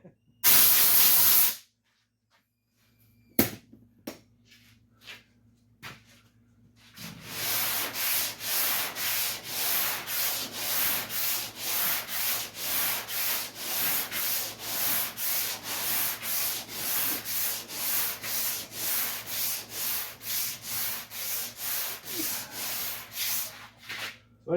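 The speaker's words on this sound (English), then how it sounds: "we keep sanding till it's all white like this, or light gray" Hand block sanding of a Fargo truck's rear quarter body panel with 220 grit sandpaper in a shop, a long run of rhythmic back-and-forth rasping strokes at close range after a few brief knocks and a quiet stretch.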